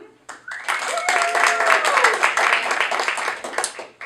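An audience at a dating-game event applauds in a quick swell of clapping, mixed with whoops and cheering voices, rising sharply and fading after a few seconds.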